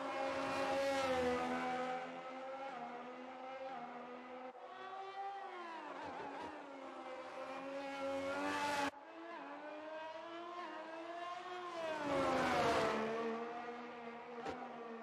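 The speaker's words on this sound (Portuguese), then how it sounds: "E agora que todos os carros cruzaram a linha de chegada, vamos rever o nosso top 3." Formula 1 cars in F1 22 scream past at the finish line in Hungary, high-pitched engines rising and falling in pitch through several close passes and gear shifts, loud and continuous with no talking.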